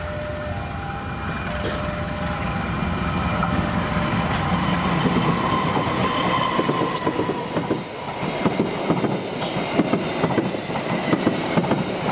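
A long-distance Serayu passenger train hauled by a CC21 locomotive rolls past on a big curve at Cikarang, a loud continuous rumble with rhythmic clickety-clack of wheels over rail joints and occasional squeals.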